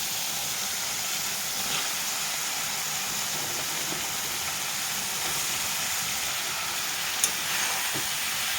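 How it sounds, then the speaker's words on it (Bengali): Homegrown taro stolons go into a pan of fried, well-cooked spice masala for a taro stolon and shrimp curry, giving a steady, fairly loud sizzling hiss that runs unbroken throughout with no talking. "মশলাটা কষিয়ে একদম সুন্দর ভাজি ভাজি হয়ে গেছে, এর ভিতরে এখন কচুরলতিগুলো দিয়ে দেবো আমি।"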